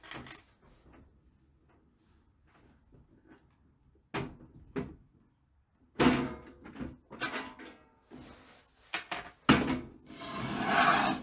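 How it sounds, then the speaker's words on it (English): Fuel cap being undone and latches unclipped on a Chinese diesel heater: faint fiddling at first, then a series of sharp plastic clicks, snaps and scrapes close by. "You undo the fuel cap, get these latches that come off."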